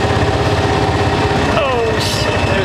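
Small engines idling at a busy springtime small engine show and swap meet in Portland, Indiana, a steady close chugging drone with crowd noise and a brief squeal near the end.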